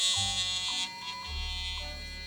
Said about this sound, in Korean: 얘는 스위치를 누르면 제가 아무 짓도 안 해도 이렇게 소리가 나면서 떱니다.